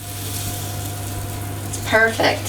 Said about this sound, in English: I'm gonna start pouring in, and you'll hear it sizzle.